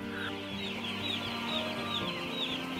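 Farm chickens cluck and murmur continuously in a flock, a steady, moderately faint layered chatter with no pauses and no talking over it.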